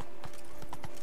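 Roach, a horse in The Witcher 3, gallops in quick rhythmic clip-clop hoofbeats, loud and close against a steady game background, no talking.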